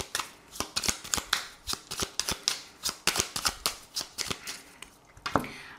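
A 32-card deck of playing cards shuffled by hand in a steady run of crisp riffling flicks and slaps, close and clear, with no talk.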